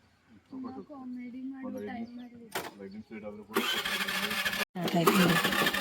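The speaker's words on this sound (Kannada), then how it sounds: "ಸ್ಕೂಟಿ ತಗೊಂಡು ಹೊಂಟೇನಿ" A scooter engine starts and revs steadily, then grows louder and broader as it rides off, with a brief cut before the motor noise resumes. A voice talks over the start.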